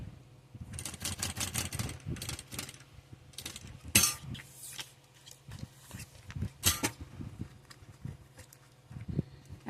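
A sewing machine stitches a rhinestone-covered cube pouch, with rapid mechanical clattering in short runs, a few sharp clicks and pauses between bursts, close up and moderately quiet.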